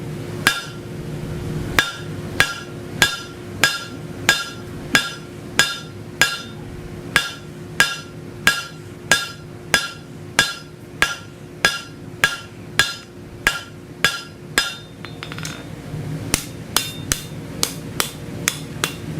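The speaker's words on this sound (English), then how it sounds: "Go ahead and hammer that down" Hot metal is hammered on an anvil while a repeating pattern is forged, giving about thirty sharp ringing metallic strikes at a steady, even pace, clear and close with a low hum underneath.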